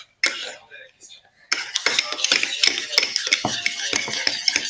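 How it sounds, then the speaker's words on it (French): A utensil stirs a mixture in a bowl with rapid, rhythmic clinks and scrapes close up after a brief quieter start. Faint voices can be heard underneath. "On va passer notre après-midi à mélanger."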